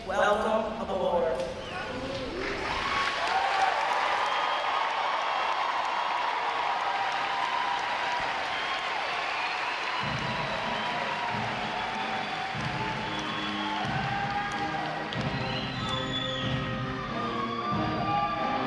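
Applause from families in the stands at a U.S. Navy recruit training graduation ceremony for new sailors, a long wash of clapping and crowd noise with some rhythmic thumping partway through.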